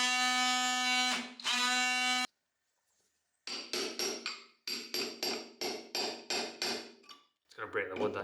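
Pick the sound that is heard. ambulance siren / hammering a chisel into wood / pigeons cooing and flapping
hammering a chisel into wood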